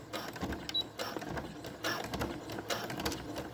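Short, quiet bursts of a sewing machine stitching and back-stitching a seam on a washable cloth face mask, the needle chattering in brief runs with small pauses between.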